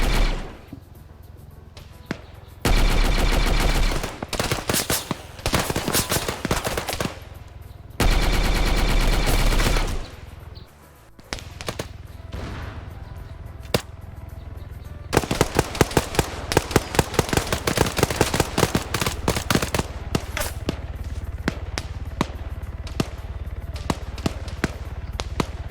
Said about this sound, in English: there's someone west with a funky sounding gun